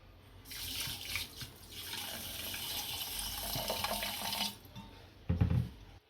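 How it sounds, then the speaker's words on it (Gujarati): Water poured from a vessel onto sugar in a pan to make syrup, a soft, continuous splashing trickle lasting about four seconds, followed by a brief clatter of utensils. "હવે ખાંડ ડૂબે એટલું પાણી નાખશું"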